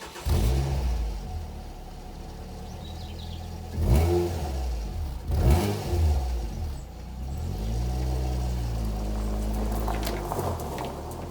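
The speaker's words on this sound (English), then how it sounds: "let's get in the car, go for a drive, and see what this little ST can do" A small Ford ST hatchback engine revs and accelerates on a road drive, a loud steady rumble with two sharp surges of throttle and rising, sweeping engine pitch toward the end.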